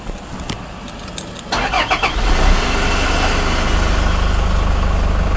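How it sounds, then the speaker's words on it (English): A 2015 Toyota HiAce minibus starts up: keys jingle and click, the starter cranks briefly, then the engine catches and settles into a steady close idle. "let's get right in and start her up"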